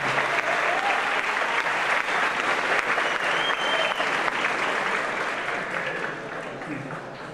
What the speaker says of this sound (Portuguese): Dá uma salva de palmas para os desenvolvedores